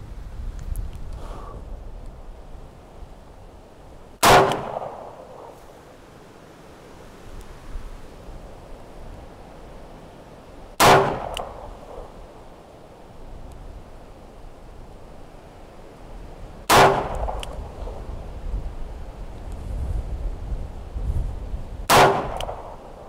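Four single test rounds from a Smith and Wesson Performance Center Pro Series pistol crack sharply at an outdoor range, spaced several seconds apart, each with a short echo over low ambient noise.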